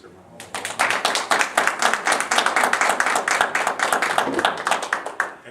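A school audience claps for the children, a loud, close burst of dense rhythmic clapping that starts sharply, holds steady for several seconds and tapers off at the end.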